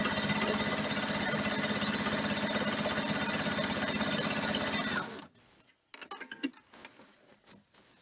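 A sewing machine chain piecing striped quilt fabric runs at a steady fast mechanical whir for about five seconds, then stops abruptly, followed by a few faint clicks and handling sounds.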